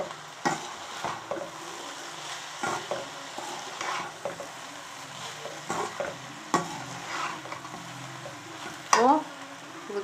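Soy sauce and tomato ketchup are stirred into gobi fried rice in a pan. Repeated spatula scrapes and tosses fall every second or so over a low sizzle, ending in a brief clatter.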